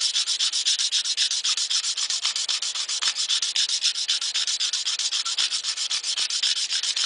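Hand file worked over stainless steel, spreading strokes across the area rather than digging one spot: steady, close rasping scrapes repeat in a fast even rhythm throughout, loud and alone with no voices.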